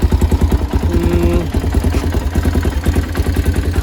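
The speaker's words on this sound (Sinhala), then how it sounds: "ඔන්න ඔහම තමයි අපි බයික් එක ඔන් කරාට පස්සේ තියෙන්නේ." Newly bought Yamaha motorcycle with a quietened original exhaust, idling just after being switched on, a close, loud, steady rapid engine putter with a regular pulsing beat.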